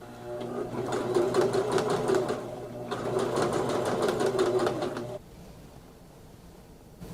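A sewing machine runs steadily, edge stitching a second line on a pair of Persephone pants; two long bursts of close, even stitching separated by a brief pause, then it stops into quiet room tone.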